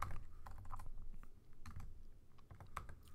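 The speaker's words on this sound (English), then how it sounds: "Sorry, my typing is bad." Someone types on a computer keyboard while writing Java code, producing irregular bursts of close, crisp key clicks with short pauses between them and no speech.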